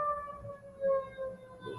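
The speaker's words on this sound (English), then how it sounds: "It's the ambulance." An ambulance siren wails in the distance, a faint wavering tone rising and falling over soft background noise.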